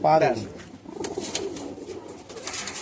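Kolkata high-flying Madrasi pigeons coo in a rooftop loft, a brief close call at the start followed by fainter murmuring coos and light rustling under a voice.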